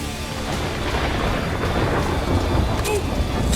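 In the video game Splinter Cell: Blacklist, a low, rumbling roll of thunder plays over a steady wash of rain, continuous and broad, with no distinct sharp crack.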